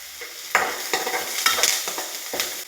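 Onions and curry leaves fry in oil in a kadai, a steady close sizzle broken by several scraping stirs, with no voices.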